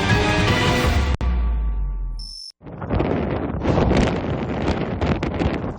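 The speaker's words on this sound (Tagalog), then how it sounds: "dinig na dinig ang tila dagundong ng malakas sa hangin" Strong typhoon wind from Typhoon Christine roars and buffets the microphone in Daet, Camarines Norte, with loud gusty bursts broken by a brief cut partway through.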